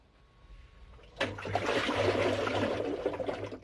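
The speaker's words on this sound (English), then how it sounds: "you can hear a sound similar to this if you rotate the tumbler when loading or unloading the" Sealed balance ring of a Maytag Neptune front-load washer sloshing as the tumbler is turned by hand: a quiet start, then a sudden rush of liquid swishing and splashing that continues steadily, close and fairly loud.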